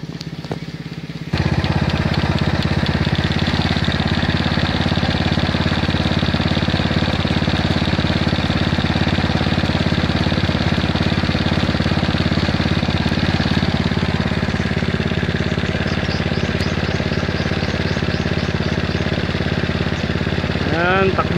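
A power sprayer pump engine spraying an eggplant field starts up after a brief quiet moment, then runs continuously at a steady, loud, rough idle-like drone for the rest of the clip.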